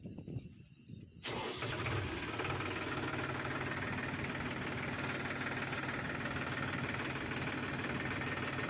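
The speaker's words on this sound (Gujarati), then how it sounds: "આપણે ટ્રેક્ટર ચાલુ કરીએ છીએ" A tractor engine cranks and catches after a second of near quiet, then settles into a loud, steady knocking diesel idle close by, running on unbroken, likely powering a groundnut thresher fan.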